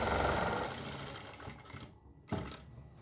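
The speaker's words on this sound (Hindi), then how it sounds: "इसे सेंटर मिला के अच्छी तरीके से सिलाई लगाऊँगा" Sewing machine stitching the pocket of a kitchen apron, a rapid whirring chatter that runs steadily, slows, pauses briefly, then restarts with a short burst.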